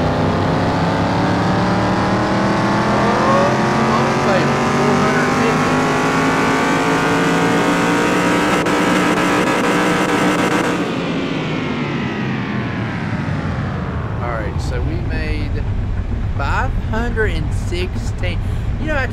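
A junkyard Mustang engine with aftermarket parts in Car Mechanic Simulator 2021 screams through a third-gear dyno pull, revs climbing loudly for about ten seconds, then dropping and winding down as a voice talks near the end.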